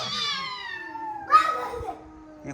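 A cat lets out a long, drawn-out meow followed by a shorter one, close by, with faint background voices.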